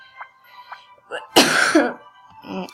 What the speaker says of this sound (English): Sorry, just coughed there.